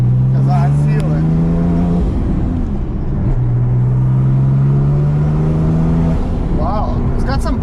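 A tuned 1000 hp Porsche 997 911 Turbo with a triple-disc clutch pulls hard under boost, its engine note climbing steadily through two long rising sweeps with a brief shift between them, loud and close from inside the cabin.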